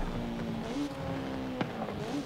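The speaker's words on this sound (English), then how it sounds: "The downshifts feel so crisp in this car." A 1997 Honda Civic Type R engine in Forza Horizon 5 holds a steady drone, then blips and drops in pitch through a quick downshift, close and continuous with faint tire noise beneath.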